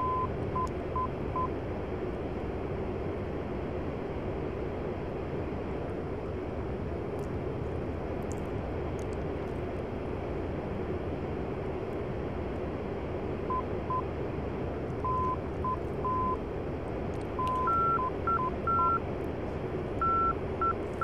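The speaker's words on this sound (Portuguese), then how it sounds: "Você está escutando dois sons, um é do ILS e do Takam. O segundo som mais forte é do Takam." In the DCS World M-2000C flight simulator, ILS and TACAN navigation beacon tones beep in short Morse-like groups. They grow more frequent toward the end and sit faintly over a constant cockpit engine hum.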